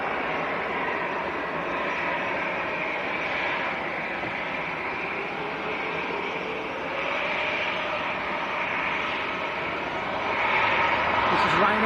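A Ryanair airliner at Manchester Airport gives a low, steady jet rumble in the background that swells slightly near the end, while people talk over it.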